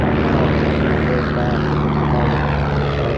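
Vintage propeller aeroplane at a 1985 fly-in, its engine droning loud and steady with a constant buzzing roar throughout, as if the aircraft is close by.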